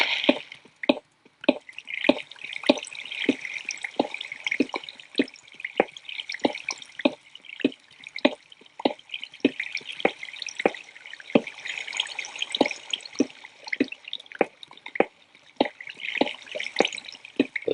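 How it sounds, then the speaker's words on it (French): Water drips steadily in a video game, each small plop falling at a regular pace for many seconds against a quiet, faintly hissing background. "J'entends de l'eau."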